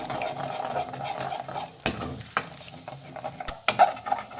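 Egg mixed with garam masala, chili powder and salt is stirred in a hot pan for vegetable egg rice, with irregular scraping and utensil clinks over a soft sizzle, close up.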